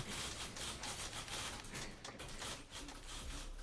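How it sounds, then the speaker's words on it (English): Typewriters clattering in The Beginner's Guide, a dense, continuous stream of rapid mechanical key strikes layered together, faint and steady with no pauses. "I wonder if that's what the typewriters are typing."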